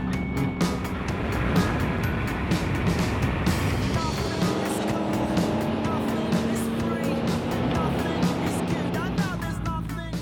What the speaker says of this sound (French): Les voitures rentrent directement dans les stands